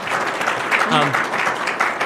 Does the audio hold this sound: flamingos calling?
no